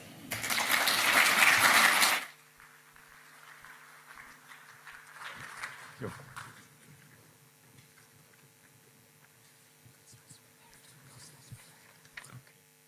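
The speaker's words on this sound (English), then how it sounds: "A round of applause, please, for the President of the VBI, Dr. Volker Cornelius." An audience at a host nation welcome session of an engineering conference applauds the VBI president coming to the stage: a dense burst of clapping for about two seconds that cuts off abruptly, leaving quiet room sounds and scattered small knocks.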